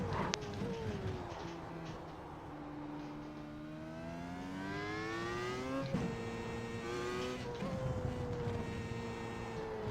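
A race car in the iRacing sim under heavy braking with the brakes locking up, engine tone sweeping down and back up through gear changes with a steady tire-scrub texture, loud and close and heard on its own.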